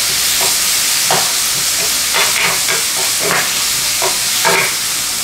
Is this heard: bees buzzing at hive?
no